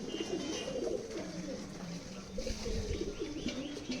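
Desi Giribaz flying pigeons coo together in a loft, their overlapping low, rolling calls forming a dense, continuous chorus at moderate volume with no voices.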